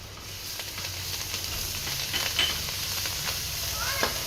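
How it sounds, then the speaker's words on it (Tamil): Chopped coriander sautés in an oiled pan, giving a steady, soft sizzle and hiss with faint scraping of stirring throughout. "ஒரு நிமிஷம் வதக்குங்க போதும்"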